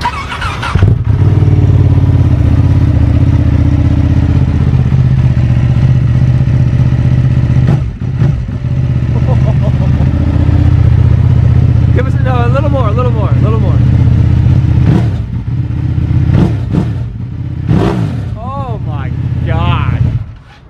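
A 2020 Ducati Streetfighter with engine upgrades idles loudly up close and is blipped through several quick, sharp revs that spin up fast and fall back, with people talking briefly near the end.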